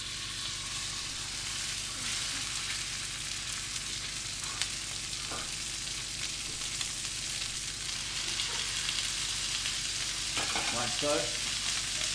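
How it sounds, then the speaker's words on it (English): Steaks laid into a hot pan sear with a steady, crackling sizzle throughout, close and fairly loud, with spits and pops near the end and a brief spoken remark. "So I'm just going to place these steaks down I want to get a good colour on them."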